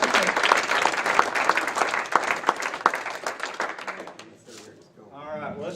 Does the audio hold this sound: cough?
no